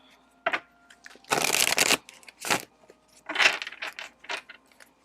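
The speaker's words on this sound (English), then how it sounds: "I'm going to just keep shuffling before I interpret." Tarot cards shuffled close up in irregular bursts, crisp riffling and slapping of the deck with short pauses between, a faint voice occasionally audible in the background.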